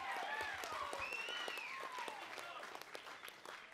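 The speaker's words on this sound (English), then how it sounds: "Give him a round of applause, everyone." Scattered applause from an audience at a Bay Games Grand Slam event, fairly faint, with distinct claps and overlapping whoops that taper off toward the end.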